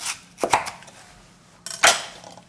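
A kitchen knife cuts through food on a cutting board while preparing oxtail soup, with a couple of sharp, close chopping strikes early on and another firm cut later, separated by quiet.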